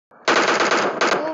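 Rapid automatic gunfire from the battle royale game BGMI, a dense sustained burst of shots that starts abruptly after a brief lead-in and continues without a break, loud and close.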